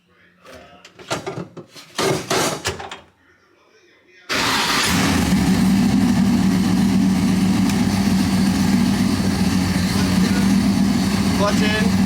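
A car engine cranks and catches on a drag-racing quarter-mile setup, then settles into a steady, loud idle; earlier, people talk briefly before the start.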